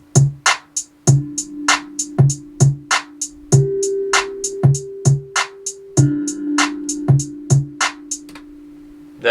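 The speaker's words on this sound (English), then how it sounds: "here you created an automation for a low pass filter," A rhythmic electronic loop in FL Studio plays a repeating drum pattern with a sustained tone while an automated low pass filter sweeps its brightness. It plays alone and steadily, with no voice over it.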